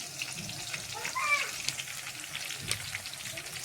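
Chillies dry-roasting in a pan for a spicy puffed-rice chivda give off a close, steady crackling sizzle with soft scraping, running the whole time without pause.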